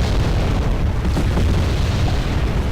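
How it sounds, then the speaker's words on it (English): Artillery explosions in the Wargame video game, a dense continuous rumble of booms blending into one loud, sustained roar without clear separate blasts. "the artillery is really helpful, especially when shooting at such a short range"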